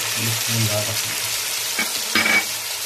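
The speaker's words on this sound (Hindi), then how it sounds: "लहसुन अदरक जो है ब्राउन हो चुका है तकरीबन इसको थोड़ा सा भूनेंगे" Browned garlic and ginger frying with salt for a beef kofta gravy, giving a strong continuous sizzle with clattering stirring strokes near the end and a brief voice-like murmur at the start.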